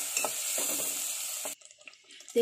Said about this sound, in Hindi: हम इसमें ये ग्राइंडेड ग्रीन मसाला ऐड कर देंगे। ऐड करके इसको अच्छे से भूनेंगे